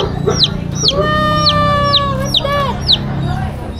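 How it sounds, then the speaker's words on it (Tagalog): Chicks peep and cheep in a rapid series of sharp, high calls, close and loud over a low background murmur. "bilhin namin sisiw si Fuji ko"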